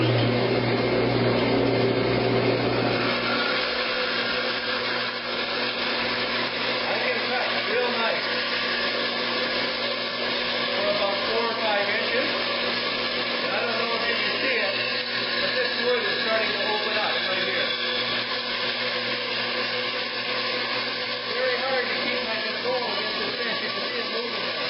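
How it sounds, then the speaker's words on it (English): A bandsaw resaws figured koa wood against a fence, a steady loud motor whine and cutting hiss running continuously, with a low hum dropping away after the first few seconds. "I'm going to just turn my bandsaw on here."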